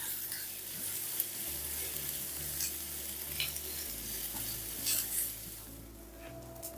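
Onions with salt sautéing in a pan, a steady close sizzle and fry with repeated stirring scrapes running throughout, no voices.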